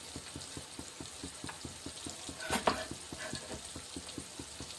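Red chili masala sizzles softly in oil while a spoon stirs it in steady, regular strokes, with one louder scrape partway through.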